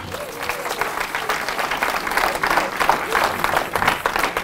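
A church congregation at a sermon service applauds and cheers, dense continuous clapping close and loud with crowd voices mixed in, sustained without a break.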